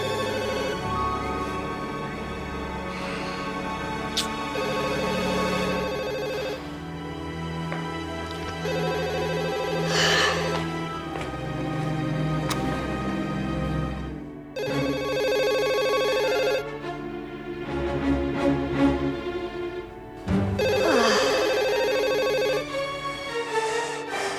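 A telephone ringtone plays loudly at night for a long stretch, a repeating electronic melody with short gaps between phrases and no voices over it.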